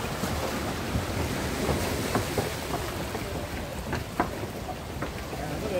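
Rough, choppy sea washes against a seaside deck in a steady, noisy wash of waves and wind buffeting, with a few brief splashes standing out and no one talking.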